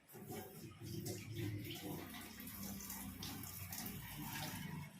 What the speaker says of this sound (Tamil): தண்ணி ஊற்றுவீங்க